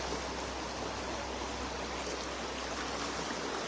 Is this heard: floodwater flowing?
yes